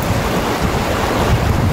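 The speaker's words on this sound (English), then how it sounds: "it's a little windy" Steady wind buffeting a microphone, a continuous low rumble and hiss with no voices.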